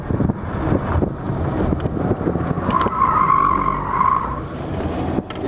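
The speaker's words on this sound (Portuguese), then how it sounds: "Aqui a gente vai testar a força centrífuga, para você sentir como é que o carro escorrega" A car skids through a curve during a defensive-driving course, tires scrubbing with a sustained squeal over steady engine and wind noise, fairly loud and continuous.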